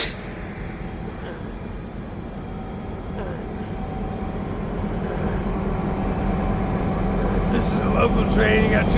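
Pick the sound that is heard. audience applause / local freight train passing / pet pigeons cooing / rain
local freight train passing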